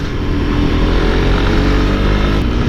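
A Suzuki GSX-R150 motorcycle engine drones loudly and steadily at close range, a continuous low rumble without pauses or voices.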